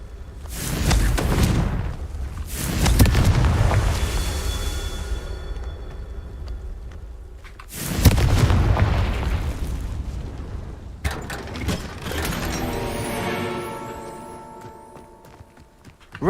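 A fiery Confringo spell blast from Hogwarts Legacy, deep booming bursts rolling out loud at the start and again midway, each decaying into crackling rumble and ringing magical tones.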